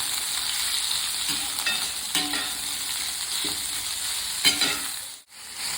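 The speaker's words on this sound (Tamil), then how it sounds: "போட்டு இதை ஒரு 2 நிமிஷம் நல்லா வதக்கிடுவோம்" Chopped ginger and garlic sauté in a pan for a mung bean masala gravy, a constant loud sizzle with occasional stirring clinks and scrapes, briefly dipping near the end.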